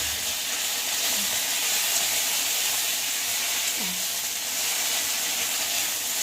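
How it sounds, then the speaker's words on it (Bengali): Cumin seeds and ginger fry in hot oil for a khichuri tempering, a loud, continuous close-up sizzle with occasional sharp spits and pops. "জিরে আদা ফোড়নের সাথে ভালো করে ভেজে নিচ্ছি"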